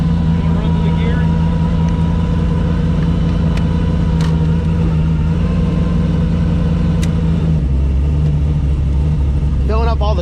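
Turbocharged Mustang race car idling with a deep, steady engine rumble that shifts lower as it runs through the gears, close and loud throughout, with people talking nearby.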